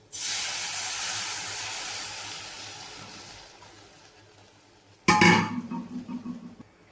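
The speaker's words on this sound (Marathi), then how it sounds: "आता ही येळवणी टाकते याच्यात." Yelvani liquid poured into fried masala in a pan sets off a loud, broad sizzle that fades gradually, then a sharp clatter and a fresh burst of hissing and bubbling near the end; no one speaks.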